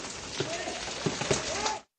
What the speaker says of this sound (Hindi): मानसून की बारिश जिस तरह से हो रही है